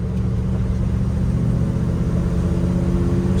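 A 1972 Ford F-250 Ranger 4x4 pickup with a four-speed manual, cruising in third gear; its engine drones steadily and loudly with a low, even hum throughout, no voices.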